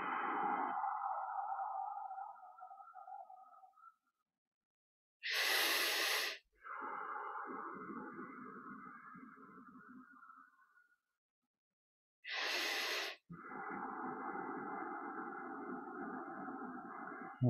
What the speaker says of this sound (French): vous entendiez à peu près le rythme de ma respiration. Inspire rapide, expire avec Ujjayi